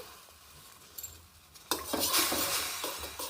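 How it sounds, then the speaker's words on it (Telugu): Beetroot juice is stirred in a pan over low heat while it thickens for homemade lip balm, with soft scraping and clinking of a utensil against the pan that grows louder and busier partway through, alone without talk. "తిప్పుతూ ఉండండి కదుపుతూ ఉండండి"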